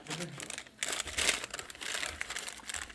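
A paper bag crinkles and rustles up close in bursts while someone handles it trying to pop it, with quiet talk around it.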